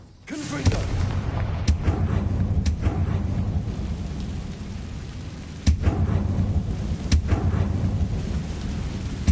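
Confringo blasting spells from the Hogwarts Legacy video game fire as several sharp, loud cracks and booms over a steady rumbling background, spaced irregularly across the stretch.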